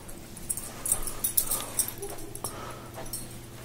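Dogs in a kennel inside an apartment give faint, intermittent whimpers and soft yips, scattered across a few seconds in a quiet room.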